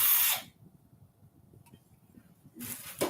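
Power drill enlarges a hole in an aircraft structures test plate, two loud short whining bursts at the start and end separated by a quiet pause.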